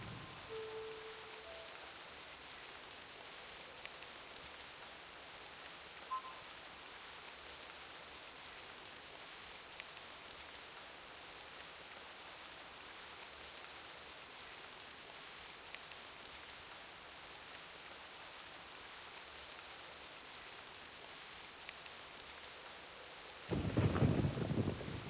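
Video game weather effects give a continuous soft wash of rain with faint distant thunder for over twenty seconds, ending in a louder crash of thunder near the close.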